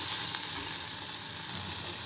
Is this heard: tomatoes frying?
yes